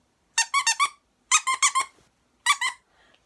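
Squeaky plush monkey dog toys from a PupBox give three clusters of rapid, high-pitched squeaks, each a run of quick squeezes, loud and close with silence between.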